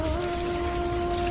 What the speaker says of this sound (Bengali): ঠিক সেই সময় ঝড়ঝড় করে নেমে এলো বৃষ্টি।